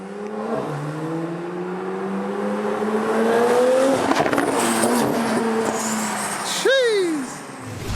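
An 800 bhp Porsche 911 Turbo S launches using launch control: its engine drones in steady rising tones through the gears, builds to a loud peak, then a final swooping pitch drop. The car passes close and strong, with light crowd noise underneath.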